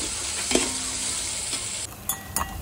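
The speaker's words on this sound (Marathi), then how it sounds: "कांदा चांगला परतून घ्यायचा, गुलाबी आणि ट्रान्सपरंट होईपर्यंत त्याला परतायचं।" Onion frying in oil in a pot for veg dum biryani, a steady close sizzle with a few clinks of stirring, the hiss dropping away near the end into scattered utensil taps.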